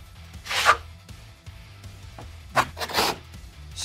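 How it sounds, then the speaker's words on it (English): A trowel scrapes thin-brick adhesive across a wall in two short, close rasping strokes with a pause between them, over faint low background hum. "skim the wall to make sure we got good adhesion with the wall substrate"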